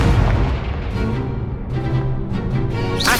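Confringo fire spell explosions in the Hogwarts Legacy video game: a series of booming blasts and crackling bursts in quick succession, loud and close, ending with a bright whooshing flare.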